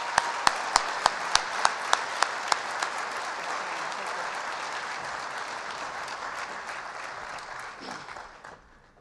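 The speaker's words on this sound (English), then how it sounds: "Let's give them a round of applause." An audience claps and applauds at a college athletic awards and Hall of Fame ceremony, opening with a few distinct sharp claps before swelling into steady, dense applause that fades away at the end.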